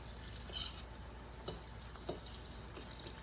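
Food cooks quietly in a pan with a soft, low sizzle, broken by a few sharp clicks and taps of utensils, all faint and close with no talking.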